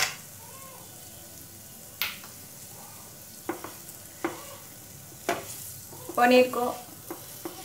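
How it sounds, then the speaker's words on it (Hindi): Paneer stuffing being fried and stirred with masala, garam masala and salt in a pan for corn kachori filling: quiet sizzle under sharp spoon scrapes and taps, a few words spoken briefly. "2 मिनट मसाला के साथ अच्छी तरह से फ्राई कर लेती हूँ"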